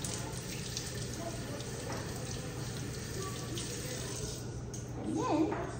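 Tap water runs steadily into a sink to rinse something, a continuous close splashing hiss throughout with a brief louder gush near the end.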